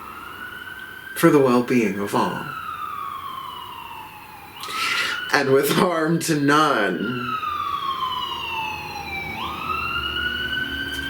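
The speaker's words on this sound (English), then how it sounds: "Ooh, that's a fire engine." A fire engine siren passes outside, its wail sweeping up and down steadily through the whole stretch while a person speaks in the foreground.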